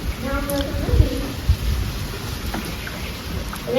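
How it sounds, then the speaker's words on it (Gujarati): Rain falls steadily in a continuous soft hiss, with a few dull thuds, while someone talks close by over it. "તો અત્યારે પાછો વરસાદ ચાલુ થઈ ગયો છે."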